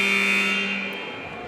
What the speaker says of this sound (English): There's the buzzer urging them to rejoin the game